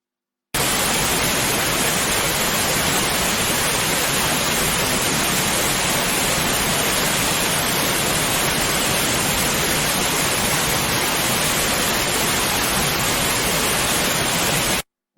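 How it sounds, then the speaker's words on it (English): A computer-generated waterfall soundscape: a steady, dense broadband wash of falling water from a height, loud and unbroken from start to finish with no voices. "the sound of the water falling from the height"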